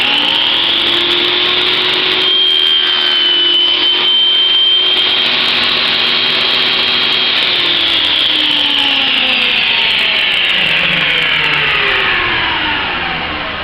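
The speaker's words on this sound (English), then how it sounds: "we'll go ahead and cut the left side of the pin" Table saw on a dovetail jig cutting dovetail pins in wood, a loud continuous whine as the blade bites, with the pitch sagging under load and then slowly winding down near the end.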